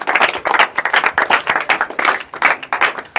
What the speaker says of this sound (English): Clap fine, okay?